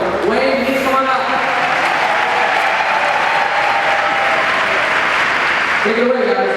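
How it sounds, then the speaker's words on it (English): A conference audience applauds two speakers onto the stage with sustained, dense clapping that holds strong throughout and begins to thin toward the end, with brief voices at the edges. "Big round of applause"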